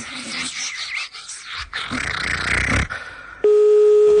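A telephone rings unanswered over a phone line: muffled, noisy rustling gives way to a steady, loud ring tone that holds to the end.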